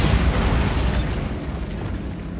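A loud, booming Bombarda spell explosion from Hogwarts Legacy erupts at once, then a rumbling tail slowly fades over about two seconds, heard alone.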